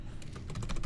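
A quick run of computer keyboard keystrokes, close and fairly quiet, several taps in an uneven rhythm during a 3DS Max modelling session, with no talking.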